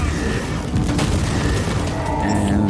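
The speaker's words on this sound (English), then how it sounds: "So let's bring him down with the melter gun." Heavy booming melter gun blasts in Warhammer 40,000: Inquisitor - Martyr, dense and loud with overlapping rumbling impacts throughout.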